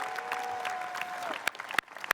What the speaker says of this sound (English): let's have a big round of applause for all of those wonderful seniors